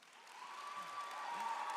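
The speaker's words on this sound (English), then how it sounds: "Can I please have a round of applause?" Audience applause at a Stark State LPN nursing pinning ceremony, a steady wash of clapping from a crowd that swells slightly and holds, heard from a distance in a hall.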